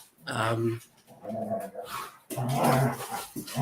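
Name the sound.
dogs fighting and growling in a kitchen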